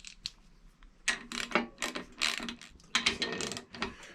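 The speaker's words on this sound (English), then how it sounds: "We're going to screw the top part, this plate on top, which is the way the forks come up through there" Screws being turned to fit the top plate onto the forks of a 38-year-old Suzuki GP100 motorcycle, a run of close metallic clicks and ratcheting scrapes in several bursts, with no talk.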